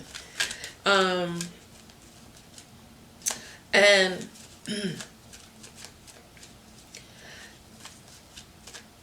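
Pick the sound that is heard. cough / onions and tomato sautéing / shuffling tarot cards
shuffling tarot cards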